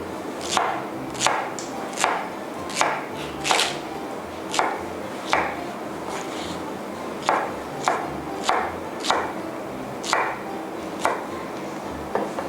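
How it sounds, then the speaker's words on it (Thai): Sharp, regular knife chops through pineapple on a cutting board, cutting bite-sized pieces about 1 cm thick, roughly one every second, close and crisp, with no talking. "เราจะหั่นสับประรดนะคะ เป็นชิ้นพอคำค่ะ"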